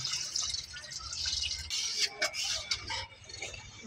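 Water is poured into a pot of curry as it cooks, giving splashing, dripping and trickling sounds at moderate volume with a low rumble beneath.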